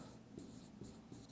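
Marker strokes squeak and scratch on a board in a lecture room in a few quick, rhythmic bursts, faint and close, with no talking.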